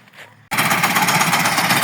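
A new garlic digger implement works in wet, weedy soil. After a short quiet moment it starts a loud, steady mechanical rattle with a fast rhythmic chatter that continues right to the end.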